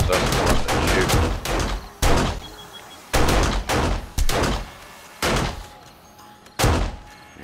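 An automated turret firing in 7 Days to Die during a horde night, in loud separate bursts of rapid shots with short gaps between, several volleys spread across the stretch.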